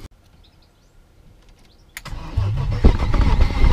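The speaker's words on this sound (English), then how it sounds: "Oh, it's cranking!" A BMW E36 with a swapped M50 six-cylinder engine sits quiet, then cranks with a sharp burst and catches, its revs rising into a loud, rough running roar; no talking.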